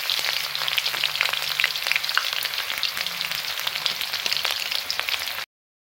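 Fish frying in hot oil in a heated kerahi wok gives a loud, continuous crackling sizzle with scattered pops, close up and without talk, then cuts to silence just before the end.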